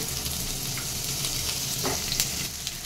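Chopped carrot and onion fry in hot oil in a pan for veg chilli noodles, giving a steady close sizzle with a few soft stirring scrapes and no talking.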